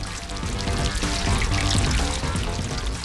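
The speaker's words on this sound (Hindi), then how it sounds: "जैसे ही पाइप से पानी वापस समुद्र की ओर बहने लगता है" Water pours steadily from a pipe back into the sea, a dense continuous gush with no pauses, loud and close.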